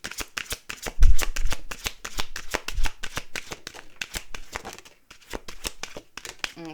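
A deck of tarot cards being shuffled by hand, rapid repeated riffling flicks with a few louder riffles, close and crisp with no talking.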